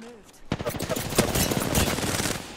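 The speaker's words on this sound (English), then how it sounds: "That's another squad shooting at us." Rapid automatic gunfire from an enemy squad in Apex Legends, a dense loud burst of shots starting abruptly and continuing steadily, with a voice briefly heard at the start.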